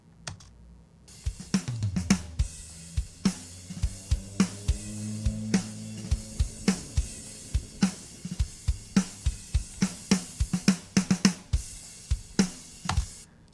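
A dry drum parallel-compression send carrying snare, toms, kick and overheads, played uncompressed: a steady run of punchy hits with ringing tom tones, close and clear, with no voices.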